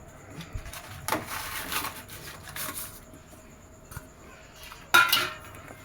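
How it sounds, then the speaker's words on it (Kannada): A spoon stirs cooked moong dal with jaggery in a metal pot, with soft intermittent scrapes and clinks, one sharper clank near the end, fairly quiet and close. "ಅದಕ್ಕೆ ಒಂದು ಸ್ವಲ್ಪ ಬೆಲ್ಲ ಎಲ್ಲ ಮಿಕ್ಸ್ ಮಾಡಿಬಿಟ್ಟು ಇಟ್ಬಿಡೋಣ ಅಂತೇಳಿ ಎಲ್ಲ ಮಿಕ್ಸ್ ಮಾಡ್ತಾಯಿದ್ದೆ"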